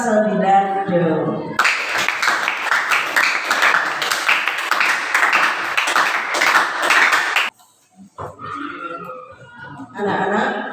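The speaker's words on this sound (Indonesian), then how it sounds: "Tepuk tangan untuk kelas 9 dong." A ninth-grade class bursts into hand clapping, a bright busy patter lasting several seconds, framed by a teacher speaking before and after.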